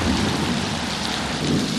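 Steady, heavy rain pours down in a dense, unbroken hiss with a low rumbling undertone, loud and close throughout.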